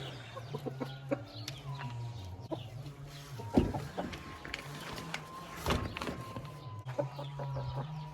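Hens cluck and murmur softly at close range, with a few sharper squawks and rustling around them.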